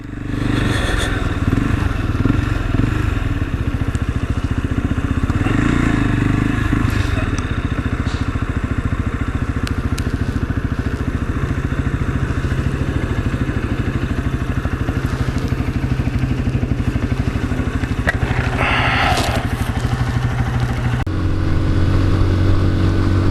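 A Lexmoto Assault motorcycle is ridden home from an MOT testing station, its engine droning loud and steady throughout with shifting revs and wind rush, close to the rider.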